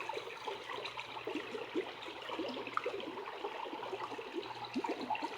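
Shallow river flowing over exposed rocks in its bed beside a forest trail, a steady close trickling and babbling wash with no voices.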